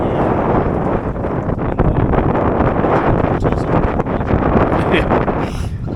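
Wind blowing hard outdoors on a boat during a stone crab harvest, a steady loud broadband roar buffeting the microphone throughout, with faint speech mixed in underneath.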